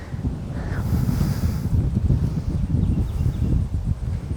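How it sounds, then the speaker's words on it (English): Strong wind at a golf range buffets the microphone with heavy, continuous low rumbling and irregular gusty surges. "And into a 20 mile an hour wind."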